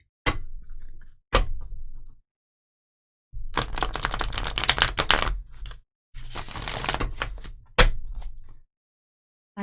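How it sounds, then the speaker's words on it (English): Tarot cards are shuffled in several loud bursts of riffling and bridging, separated by short silences, close to the microphone with no talking. "All right, one more shuffle."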